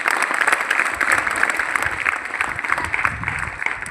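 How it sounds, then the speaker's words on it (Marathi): Audience clapping loudly at a school birthday felicitation ceremony honouring a teacher, a dense, steady round of applause lasting throughout with no break. "याच्यासाठी एकदा जोरात टाळ्या वाजवा"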